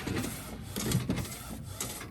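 DTF printer running its cleaning cycle, a faint mechanical whir with soft clicks and shuffling pulses, steady and low in level with no talking.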